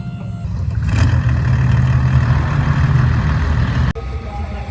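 A Mercedes OM606 diesel engine in a track-day car runs with a steady, gruff low rumble close by, swelling briefly at the start and holding level before a sharp click near the end.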